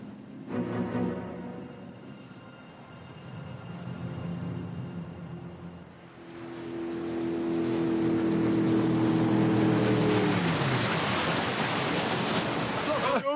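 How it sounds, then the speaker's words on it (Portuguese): A motorboat speeding across water, its engine droning and rising, then a loud rushing wash of spray and water noise building and holding as the boat races past. "Olha só, é uma lancha!"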